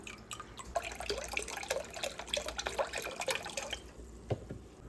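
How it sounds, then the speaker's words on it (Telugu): Liquid splashes and trickles into a pot in quick uneven bursts, fairly faint and close, with a few drips as the pouring tapers off. "ఇప్పుడు చికెన్ బ్రాత్ వాటర్ తీసుకొని దీంట్లో వేసేసుకుందాం"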